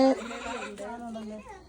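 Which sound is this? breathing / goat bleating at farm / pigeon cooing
goat bleating at farm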